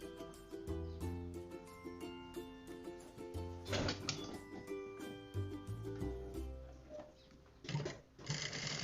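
A sewing machine stitching along an inner seam of a garment facing, running in a quiet mechanical whir with rhythmic tapping and a few brief bursts, fairly close and alone.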